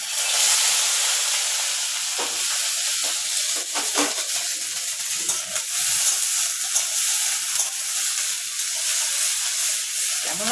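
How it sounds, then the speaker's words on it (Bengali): Vegetables sizzle and hiss in hot oil in a home kitchen while Maggi noodles are prepared, a steady bright frying crackle with occasional sharper pops and stirring scrapes. "ভাজা হচ্ছে"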